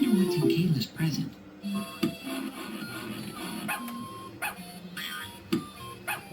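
A dog barks in the Fatty Bear's Birthday Surprise game, played on a lime iMac G3, with a few short yips scattered through busy game music and effects, while a person talks over it.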